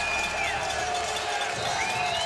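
A football crowd in an Ottawa stadium cheers loudly in a dense, sustained roar during a CFL fourth quarter, with rising whoops over the constant wash of noise.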